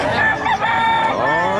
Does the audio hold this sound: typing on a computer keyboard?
no